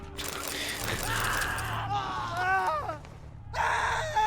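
Woodcutters in The Witcher 3 cry out in strained, wavering screams and groans, several overlapping voices rising and falling over a low ambient rumble, fairly loud and close.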